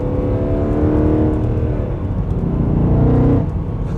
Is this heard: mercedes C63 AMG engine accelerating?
yes